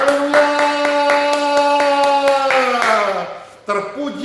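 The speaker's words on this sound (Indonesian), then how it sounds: "berikan tepuk tangan yang bagi Tuhan" A church congregation clapping hands in worship, steady rhythmic claps under a sustained sung or spoken voice, fading near the end before a brief burst of voices.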